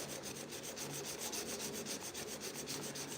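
Hand sanding of body filler on the doors of a 1968 Chevrolet C10 truck, heard as quiet, rhythmic back-and-forth scratchy strokes at a steady pace of about three per second, close up and alone.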